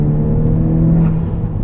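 A big-turbo Volkswagen MK6 GTI with a limited-slip differential accelerates hard, its engine giving a loud, close, steady droning growl with a faint turbo whine that fades near the end.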